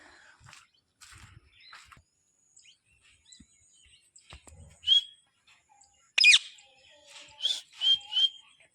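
Pet parrot calling outdoors, giving a few sharp, whistled chirps and squawks that come in short separate bursts, louder toward the end, over a quiet background with faint scattered noises.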